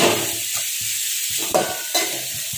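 Cabbage and potatoes frying in oil in a pan on a Kolkata street, a steady bright sizzle with a few scraping stirs of a spoon against the pan, close and without talk.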